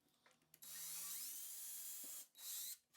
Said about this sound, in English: I'm just going to drill my pilot hole here.